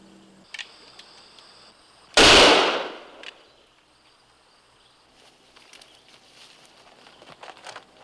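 A single loud gunshot cracks out nearby in a frontier wilderness setting, its report decaying over about a second amid quiet outdoor ambience with faint insect-like chirps.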